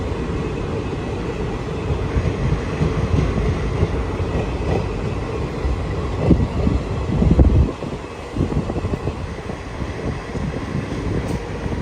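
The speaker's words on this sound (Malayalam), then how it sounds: "ഇതേ അടുത്തൊരു സ്റ്റേഷനിലേക്ക് ട്രെയിൻ എത്തിക്കൊണ്ടിരിക്കുകയാണ്." A passenger train on the Tinsukia to Ledo line in Assam draws into Digboi station, heard from on board as a steady low rumble with rattling and wind buffeting that swells briefly before easing, with no talking.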